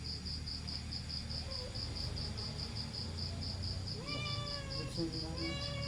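Cats meow a few times, rising calls near the end, over a constant loud chorus of crickets during an outdoor dinner; faint voices murmur underneath.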